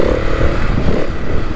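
A motorcycle engine rumbles steadily up close during a ride, a loud continuous drone with wind noise and no speech.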